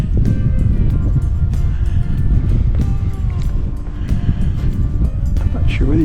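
Strong wind gusts hard through the streets of Nanortalik, Greenland, a loud, constant low roar buffeting the microphone, with occasional speech mixed in.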